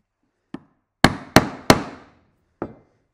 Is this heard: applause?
no